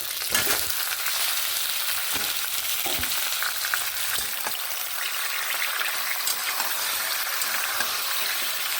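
Chicken pieces hit a pan of already browned onions, producing a loud, close, unbroken sizzle with scraping stir strokes and occasional sharper crackles throughout.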